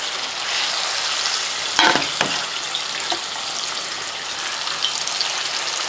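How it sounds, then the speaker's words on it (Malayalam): Chicken pieces fry in hot oil with a steady, close sizzle and crackle, broken by a couple of brief clatters from stirring. "ഇപ്പം നമ്മൾ ഈ ചിക്കനെ ഇതുപോലെ വറുത്ത് ചെയ്യുമ്പോഴത്തേക്കും ചിക്കൻ പൊടിഞ്ഞു പോകത്തില്ല"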